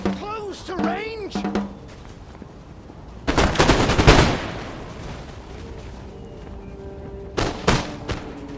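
Musket volleys and cannon fire in Total War: Empire, a sharp crackling fusillade and heavy booms in two loud bursts separated by quieter battlefield noise and faint whistling tones, with a voice speaking.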